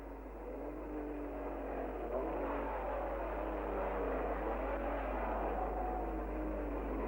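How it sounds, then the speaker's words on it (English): Racing cars roar away at the start of the 1959 British Grand Prix at Aintree, a continuous, muffled engine drone with a low mains hum, rising and shifting slightly as the pack pulls away, heard alone. "World Championship by 4 points from Brooks, took the lead as the pack charged towards Waterways Corner."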